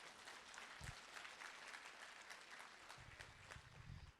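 Audience clapping fills the room steadily at a moderate level, with a couple of brief low thumps, no voices on top.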